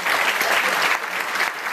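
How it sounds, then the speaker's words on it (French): A theatre audience gives the set designers a short round of applause, a dense, even clapping that stays fairly loud and steady from start to finish. "On peut les applaudir."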